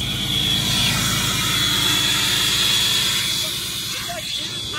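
A twin-turbo modified fifth-generation truck engine lets out a loud, sustained jet-like hiss and roar close by, with a steady low throb underneath that eases slightly at the end.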